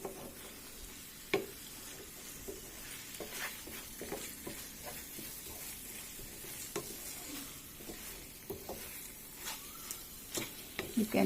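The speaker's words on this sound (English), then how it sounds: "give it a quick stir on high flame" Egg masala stirred in a pan over a high flame: soft sizzling throughout, with intermittent scraping clicks and taps of the spoon against the pan, fairly quiet and close.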